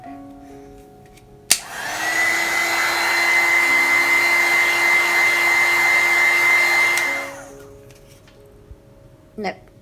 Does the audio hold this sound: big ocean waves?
no